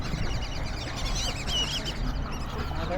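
Ducks quacking in a park as a flock passes overhead, calls scattered over steady outdoor background noise with no one talking.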